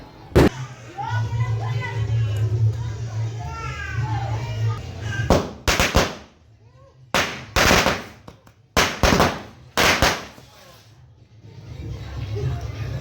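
A series of sharp firecracker bangs at a Ganesh idol immersion procession, some in quick bursts, loud and close, with children's voices and chatter in the background.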